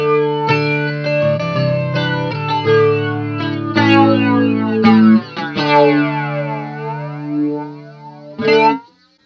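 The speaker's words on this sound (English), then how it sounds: "I've got the Eno BF2, which is a variation on the old Maxon flangers." Electric guitar played through an Eno BF2 flanger pedal, a take on old Maxon flangers, set to a filtery tone with little sweep: sustained chords and picked notes with a swirling, comb-filtered shimmer, loud and close, with no talking.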